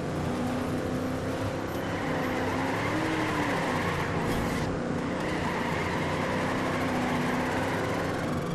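Race car engine in the Trackmania Turbo video game on a canyon drift track, a continuous loud roar with tire noise and slight pitch shifts through corners, steady from start to end.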